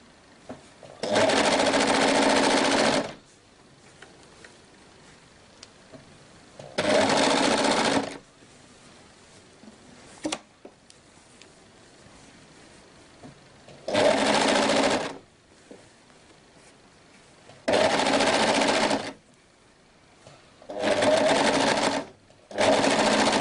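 A sewing machine stitches fabric for a girl's dress in several loud, close bursts of rapid mechanical whirring, each lasting a second or two, separated by quiet pauses.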